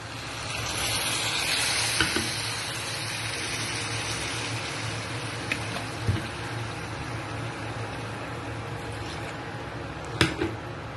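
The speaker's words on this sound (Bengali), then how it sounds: "আমি এর মধ্যে চার বাটি জল অ্যাড করছি" Water is poured into a hot pot of rice, lentils and vegetables, a continuous rushing sizzle and gush lasting throughout, with a few light clinks of the pot.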